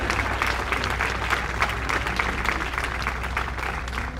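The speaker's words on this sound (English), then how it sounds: "Y'all give a give a round of applause." An audience applauds steadily and densely at a Miami Gardens State of the City address, a full, continuous wash of many hands clapping at close range with a low hum underneath.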